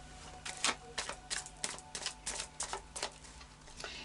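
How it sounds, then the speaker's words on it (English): An Oracle of Visions deck of oracle cards is shuffled by hand, giving quick, irregular bursts of papery flicks and riffles, close but fairly soft, with no talking. "And then a final shuffle of the Oracle of Visions."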